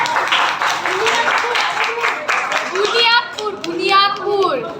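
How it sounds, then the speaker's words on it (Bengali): A teachers' day audience claps in a sustained burst of dense applause over a general hubbub, with children's voices chattering throughout and rising toward the end. "সবাই একটু জোরে করতালি দিবেন।"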